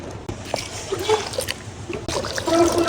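Water measured out and poured into a gram flour batter in a bowl, giving a close, steady splashing trickle that runs through the whole stretch.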